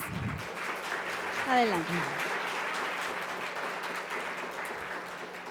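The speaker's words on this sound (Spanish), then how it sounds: "Recibimos con un fuerte aplauso a Óscar Ramos Montes." Soft, even applause from a forum audience greeting a speaker continues throughout, fairly distant and low in level, while one voice briefly says a single word over it.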